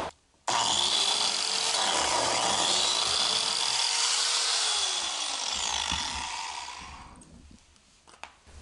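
A Lamello biscuit joiner cuts slots in wood, giving off a steady high-pitched motor whine with a loud grinding cut that runs for several seconds, then shuts off and winds down.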